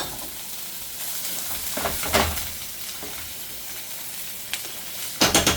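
Olive oil sizzles steadily in a frying pan at close range, a continuous hiss with a few louder crackles and bursts, and no one speaking.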